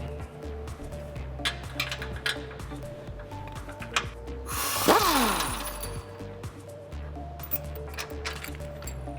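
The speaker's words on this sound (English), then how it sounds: "loosen up the transfer case mounting bolt" A socket wrench loosening a 22mm transfer case mounting bolt on a 2005-2019 Toyota Tacoma during a suspension lift install, with metallic clicks and scraping and a louder grinding burst midway.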